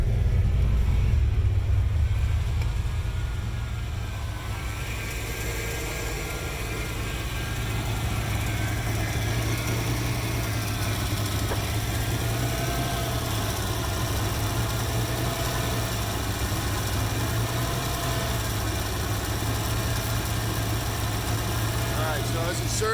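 A 1982 Ford Capri RS engine idles steadily up close with a deep low rumble and slight surging in the revs, carrying on throughout with no talk over it.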